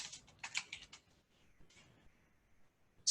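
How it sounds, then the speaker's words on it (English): Quick bursts of typing on a computer keyboard, a cluster of close, crisp key clicks followed by sparse taps in a quiet room, ending with one sharp keystroke. "I'll just quickly type"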